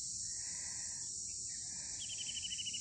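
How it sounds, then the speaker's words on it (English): A dense, steady trill of crickets in the forest around a hillside campsite at Shreyam Hills in the morning, with a few quick bird chirps joining near the end and no talking. "you can hear the crickets, chirping sounds of the birds"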